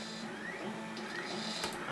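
A 3D printer running, with faint whirring stepper motor tones that rise and glide over a steady low hum, plus a few brief clicks, heard continuously at low level.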